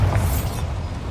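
Bombarda spell blast in Hogwarts Legacy, a short booming burst with rumbling low end over steady game ambience.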